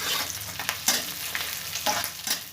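Garlic and ginger frying with browned onions as a spatula stirs them, a close hiss broken by several quick scraping strokes against the pan.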